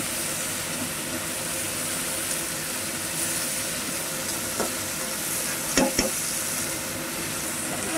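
Vegetables fry and are stirred in a pan for a village-style winter dish of mixed small river fish and winter vegetables, a steady sizzle with a few louder scrapes of the stirring spoon near the end.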